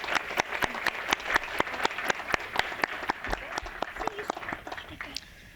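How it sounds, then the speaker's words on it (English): Sparse, sharp handclaps in a committee hearing room at the Kentucky General Assembly, spaced out and fairly faint, with a murmur of voices underneath. "Let's give these students a round of applause."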